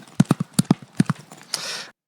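Horse galloping away: a quick run of sharp, loud hoofbeats in an uneven rhythm, ending in a brief hissing rush before silence.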